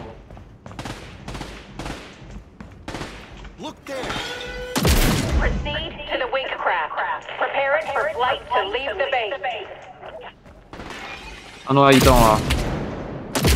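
Gunfire from the online shooter Caliber breaks out in loud, sharp bursts, one volley near the middle and another near the end, with players talking over and between the shots.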